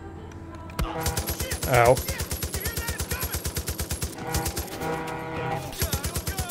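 Continuous rapid automatic gunfire in Far Cry 5, a close, rattling stream of shots with a short pause near the middle, while someone speaks and yelps over it.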